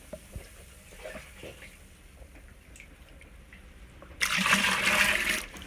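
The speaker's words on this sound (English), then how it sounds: "putting a little bit of the wort in first over the top of the hops" Hot wort poured over Eldorado hops during home brewing, a loud rushing splash of liquid arriving near the end after quiet handling noises, close and dense.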